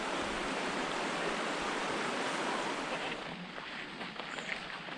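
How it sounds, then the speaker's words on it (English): Steady rushing of a creek flowing out of a lake in the Adirondacks, broad and continuous like water spilling over, loud and close with no pauses. "This is the creek emptying out the lake here"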